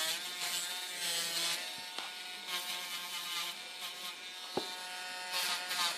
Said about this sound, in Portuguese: A gente vai passar o motor para poder ir nivelando, tirando aquele gelzinho